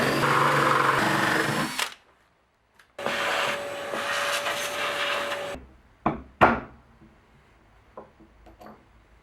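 Power drill boring holes into a wooden workbench top, two sustained loud bursts of whirring with a pause between, followed by a few sharp knocks and handling clatter.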